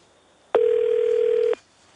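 A telephone line sounds a single steady tone for about one second during a call to a government main number, loud and clean, starting and stopping abruptly against a quiet line.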